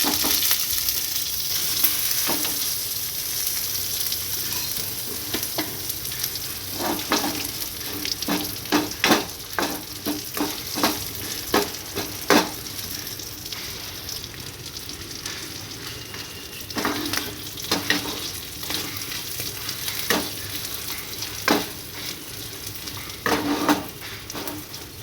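Mourala fish fries with green chillies in a pan, giving a steady oily sizzle under repeated sharp scrapes and clinks of a spatula stirring against the metal, close and continuous.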